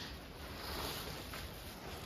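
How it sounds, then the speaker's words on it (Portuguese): Wind blows steadily across an outdoor tobacco field, a continuous broadband rush that buffets the microphone at an even, moderate loudness with no voices. "Ó, o vento deu uma colaborada."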